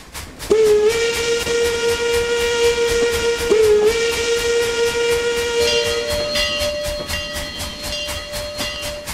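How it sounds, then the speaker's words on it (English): A steam locomotive whistle in the video game Trainz 12 blows long, loud sustained tones with a brief break and a drop in pitch near the end, over a hissing, rhythmic chuff. "That's the whistle if you want to go download it."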